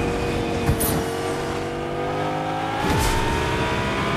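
A car in Fortnite Chapter 5 Season 4 drives fast, its engine roaring loud and continuous with shifting pitch and brief whooshes.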